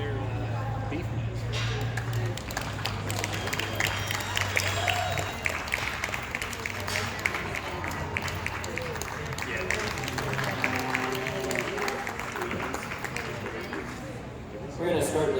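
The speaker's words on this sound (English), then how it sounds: "congratulate them with a round of applause" An audience at a 4-H county fair dairy goat and bucket calf show applauds the exhibitors, a spread of clapping mixed with crowd noise and a low steady hum, carrying on for about fifteen seconds.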